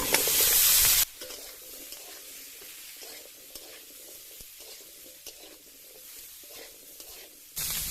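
Prawns, pumpkin-leaf stems and potatoes in hot oil open with a loud burst of frying, settle into a quieter sizzle with intermittent stirring scrapes, then flare loud again at the end, no talk.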